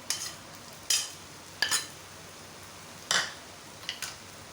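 A spoon stirs macaroni keema with red chili sauce and ketchup in a pan, giving a few separate scraping swishes spaced out over a quiet background, with faint sizzling between them.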